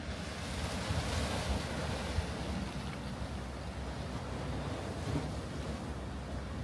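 Ocean waves wash in along the rocky shore at Marblehead, Massachusetts, a broad steady surf rush mixed with wind buffeting the microphone, continuous and moderately loud with no talking.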